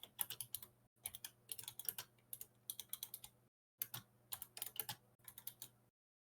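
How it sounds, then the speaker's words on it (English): Rapid clattering keystrokes on a computer keyboard in bursts, with short pauses between runs, fairly close and alone without talk. "There's a lot of typing in the background."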